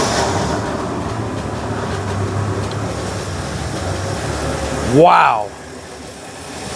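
A 1963 Ford engine runs with a steady low rumble, a brief louder surge near the end, and one short exclamation from a person over it.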